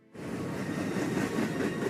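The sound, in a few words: train running on tracks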